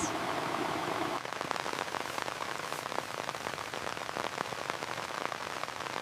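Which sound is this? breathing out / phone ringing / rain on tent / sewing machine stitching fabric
rain on tent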